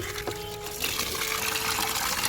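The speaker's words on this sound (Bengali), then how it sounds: "তো দেখতে পাচ্ছ এখানে পায়রার জন্য পানি নিয়ে নিচ্ছি।" Water running from a tap into a container for pigeons, a steady close gushing stream that grows fuller partway through and keeps flowing to the end.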